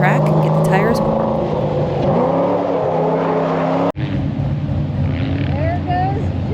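A drift car on a track revs hard while doing donuts, its engine note climbing and falling in loud, close sweeps. A single sharp crack cuts through midway, and the engine keeps wailing afterward.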